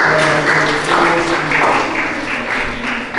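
Applause from a class audience, steady dense clapping throughout the short span at fairly close range, without anyone speaking over it.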